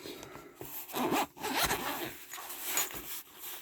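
A zipper on a carrying case for an Ames DM600 is pulled open in several short, close rasping strokes with brief pauses between them, fairly quiet and with no talking.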